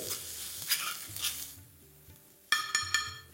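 Turmeric, Kashmiri chili powder and salt are stirred in a pan over a low flame with soft sizzling and scraping strokes, then a few bright metallic clinks near the end.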